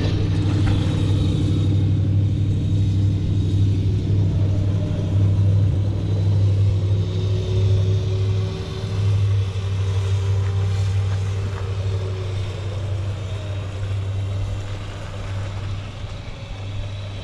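An electric 72-volt 1000W Go Bowen go-kart lapping a course, giving a continuous low motor rumble and whine that holds steady, then slowly fades as the kart moves away.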